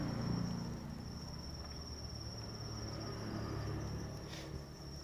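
Farmed crickets kept on dried banana-leaf litter chirp in a continuous high-pitched trill, steady and fairly close, over a faint low background hum with no speech.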